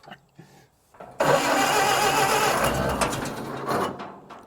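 Old speedster car engine, unused for a year, cranks and catches: a sudden loud churning roar starts after about a second of quiet and runs rough and sustained, close by, with no talk over it.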